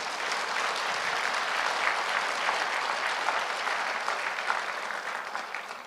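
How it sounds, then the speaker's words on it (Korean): A church congregation at a united fasting prayer rally breaks into steady applause, a continuous crowd of hands clapping that stays loud and even for several seconds. "근데 한국에서는 박수를 치려면 다 치세요."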